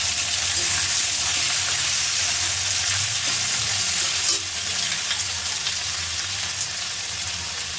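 Ginger-garlic paste frying in a pan, a dense, loud, steady sizzle close up, easing slightly after a brief stir midway.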